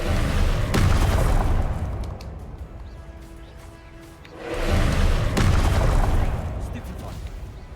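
Confringo spell blasts in the Hogwarts Legacy video game, two heavy booming explosions a few seconds apart with rumbling decay, heard under a talking player.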